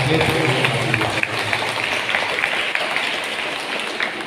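Congregation clapping at a church wedding Mass, a dense steady patter of applause, with a voice speaking over it at the start.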